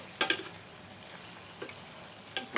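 Tomato base for garlic rasam sautéing in a pan with salt and turmeric, a faint low sizzle broken by a few sharp scraping stirs of a spoon against the pan.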